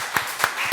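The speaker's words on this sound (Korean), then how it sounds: "박수로 환영해 주시기 바랍니다" A church congregation applauds during a Sunday worship service to welcome newcomers, with quick overlapping claps at a steady close level and no talking.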